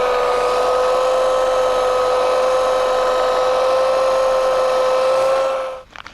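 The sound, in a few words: cutting an elm tree root with a tool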